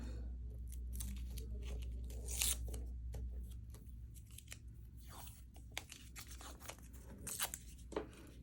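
Tape is torn and pressed down onto a handmade card in a quiet room, faint crinkly tearing and tapping bursts scattered over a low steady hum, with no talking.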